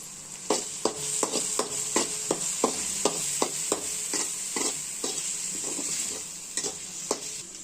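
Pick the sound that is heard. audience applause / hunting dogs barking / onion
onion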